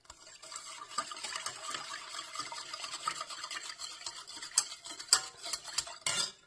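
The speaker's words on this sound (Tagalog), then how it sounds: "haluin muna natin ang ating gulaman" A spoon stirring a gelatin dessert mixture makes quick, rhythmic scraping and clinking against the container, close and fairly quiet, with sharper clanks near the end and no talking.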